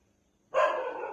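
A dog barks outdoors, one loud, drawn-out bark that starts abruptly partway through and then rings on, close by after a quiet opening.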